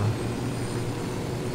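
A helicopter flying in the video game Ghost Recon Wildlands, a steady, droning engine and rotor rumble that holds at an even level throughout with no talk over it.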